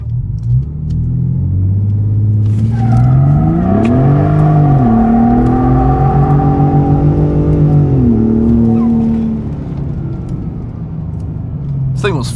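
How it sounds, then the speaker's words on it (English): A Ford F-150 converted to Raptor style revs hard from a power brake and then accelerates away, its engine rising and falling in pitch as a loud, close roar that continues for several seconds. "You want me just to power brake it and let her rip? Yeah. All right, I'm about to drive the Raptor."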